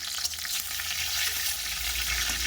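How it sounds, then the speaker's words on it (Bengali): Neem leaves fry in hot oil in a pan, giving a steady, moderately quiet sizzle and crackle that runs throughout with no voices over it. "নিম পাতাটা জাস্ট একটু ভাজা ভাজা হয়ে আসবে উপর থেকে তেল দিয়ে দিলাম"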